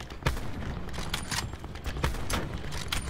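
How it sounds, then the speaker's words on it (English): Gunfire in an online shooter game, with several sharp, scattered bursts of shots against steady background noise, fairly close and without talk. "I'm getting shot at."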